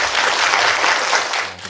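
A book-concert audience breaks into brief, dense applause, a loud burst of clapping that tapers off slightly at the end.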